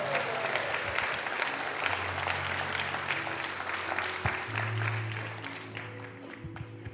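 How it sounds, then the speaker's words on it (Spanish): Church congregation applauding during a Spanish-language worship service, a dense, steady wash of clapping that fills the whole stretch with low organ or keyboard tones sustained underneath, fading slightly toward the end. "Dale ese aplauso al Señor si usted lo entiende."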